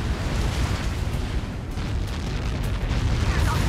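Helios projectile explosion in the Ace Combat 7 video game, a loud, sustained rumbling blast with a dense, roaring low end that stays heavy throughout.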